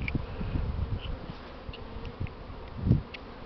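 An early spring swarm of honeybees fills the air with a continuous low buzzing hum, with individual bees drifting close and passing by as louder, brief surges.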